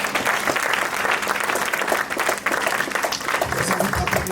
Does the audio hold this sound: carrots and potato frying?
no